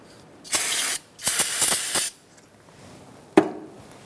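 Cleaner sprayed onto Fiat front brakes to wash off brake fluid: two loud hissing bursts, one steady and a longer one with pulsing pumps, then a short final spritz, alone in a quiet garage.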